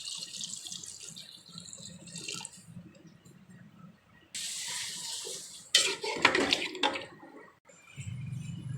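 Water from a glass poured into a cooking pot holding korma ingredients, soft splashing that comes and goes in a few separate pours, fairly faint, no talking.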